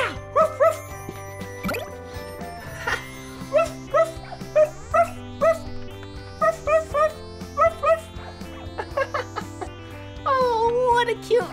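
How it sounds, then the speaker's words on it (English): A dog gives a string of short, high yips and barks in spaced bursts, shifting into a drawn-out whimper near the end, close and fairly loud with a musical backing underneath. "I spy with my eyes a dog."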